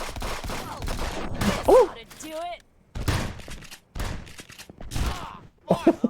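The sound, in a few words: double shotgun fire in a video game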